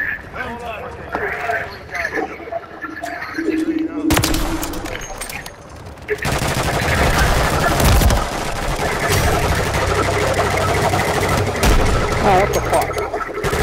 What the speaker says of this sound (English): I gotta get a triple kill with the sniper. A fucking sniper rifle.